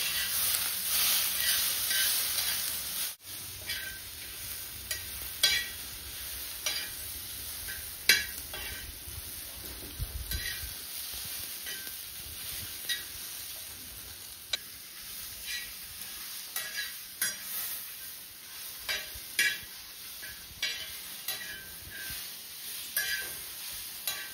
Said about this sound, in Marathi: आपल्याला मऊ होईपर्यंत लसूण आणि टोमॅटो पण भाजून घ्यायचा आहे